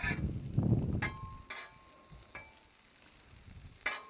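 Burgers and bacon fry on a Blackstone griddle, a steady low sizzle broken by a few sharp scrapes and clinks of a spatula, close and moderately loud.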